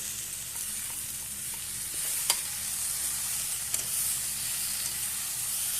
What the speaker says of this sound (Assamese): এতিয়া আমি পালেং শাকৰ পেষ্টখিনি দি দিম